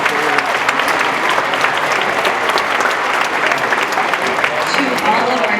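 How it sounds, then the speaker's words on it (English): Dense, steady crowd applause fills the hall at a kindergarten and first-grade winter concert in Bryan, Ohio, loud and continuous from start to finish with a sustained, even wash of clapping. "If we could give him a round of applause"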